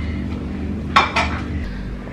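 Dishes and pots being washed in a home kitchen late at night after a party: two brief clattering clinks close by, just after each other, over a low steady background hum with no talk.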